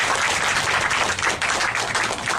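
A crowd at a Korean labor union solidarity rally claps in dense, sustained applause, loud and continuous throughout.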